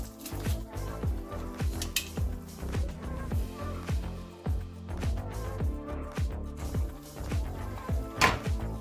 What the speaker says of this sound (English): I'm gonna put the garlic in. I'm just gonna crush it in.